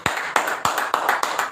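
Five sharp, evenly spaced hand claps at a steady rhythm, close and clear, from a participant at an NV Shoppe sales training session, with no talking in between.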